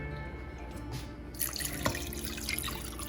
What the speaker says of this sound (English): And then you're going to fill up this can with water.